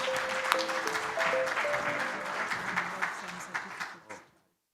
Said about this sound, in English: Please appreciate them.